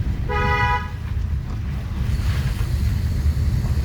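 An automatic car's horn sounds one steady honk lasting about half a second, loud over a constant low engine rumble and road noise.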